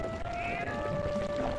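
A cat meows in the Legend of Zelda: Twilight Princess video game, running through emulator audio in a village scene; a clear, tonal meow stands out over steady game background sound.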